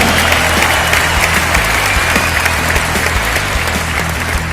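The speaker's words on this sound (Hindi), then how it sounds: "सबसे पहले मैं एक बार जोरदार तालियां चाहता हूं" Loud, dense audience applause fills a stadium award function in Delhi, a continuous roar of clapping over a low rumbling hum, sustained evenly to the end.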